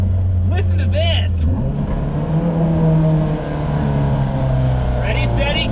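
A K20A-swapped, tuned Toyota MR2 Spyder engine revs loud and close, its note climbing and shifting through the VTEC crossover around 4,500 rpm, with a voice speaking briefly over it.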